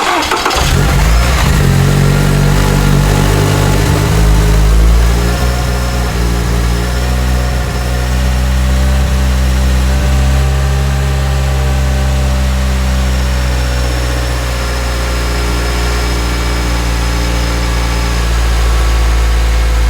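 A Toyota GR86 fitted with a Sprintex supercharger cranks and fires up, then settles into a steady, loud, close idle with a deep engine drone that continues for the rest of the clip with no talking.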